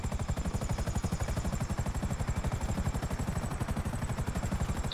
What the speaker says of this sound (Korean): 헬기가 돌아가는 것을 보실 수 있습니다